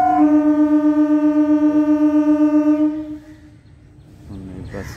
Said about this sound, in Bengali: ট্রেনের আওয়াজ, এই সামনে স্টেশন রয়েছে।